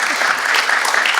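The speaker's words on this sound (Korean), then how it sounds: "박수로 격려해 주시면 감사하겠습니다" A burst of crowd applause from a church congregation, dense and loud, steady clapping throughout the brief moment.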